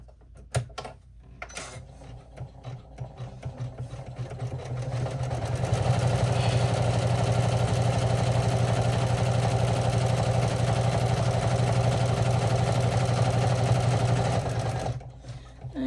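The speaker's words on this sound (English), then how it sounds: "we're gonna run step 17 to tack that down. I'm just gonna leave the camera running because it's a short stitch." An embroidery machine stitches a short tack-down step on a water bottle sling bag. After a few clicks and handling noises, a loud, close, steady needle chatter and motor hum run for about ten seconds before stopping.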